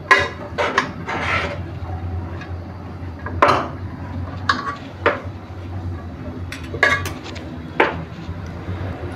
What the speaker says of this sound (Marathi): आता थोडासा असा हलकासा त्याला फ्राय करून घेऊया आणि मग दूध घालून घेऊया